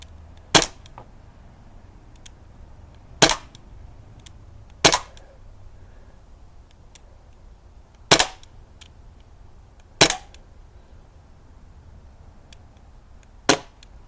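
Six sharp, loud cracks from a Crosman Mako air gun ring out at irregular intervals of two to three seconds over a quiet outdoor background, each a brief snap with a short decay.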